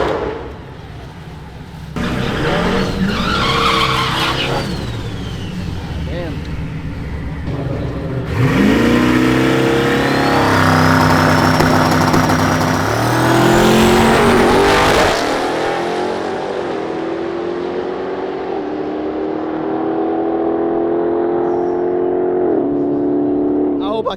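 A Dodge Demon 170 launches down a drag strip at a street car event, its engine roaring and rising in pitch as it accelerates hard and passes, with excited spectators talking close by.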